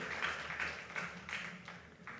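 A church congregation applauding during a service, a soft, fairly distant patter of clapping that rises and falls in several short waves.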